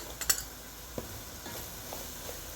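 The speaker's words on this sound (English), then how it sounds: "I let my meat fry with my ginger garlic and my masala" Chicken feet fry in a pan with ginger, garlic and masala, giving a faint, steady sizzle broken by a few light clinks and stirring taps near the start.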